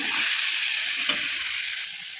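Tomato and bitter gourd sautéing in a pan for a tamarind curry, giving a steady, close sizzle with soft crackle throughout and no voices.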